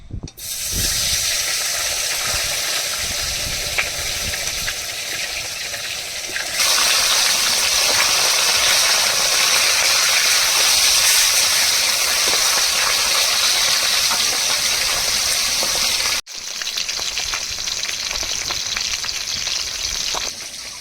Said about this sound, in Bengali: এবার নুন হলুদ মাখানো মাছগুলো ভেজে নেব